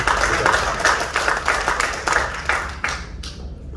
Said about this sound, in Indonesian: Kita berikan tepuk tangan buat Bapak itu.